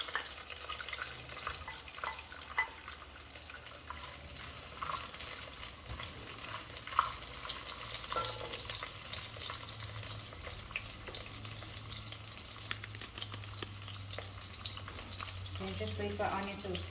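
Spices and onion fry in hot oil in a pan, a faint steady sizzle with scattered light clicks and small pops throughout.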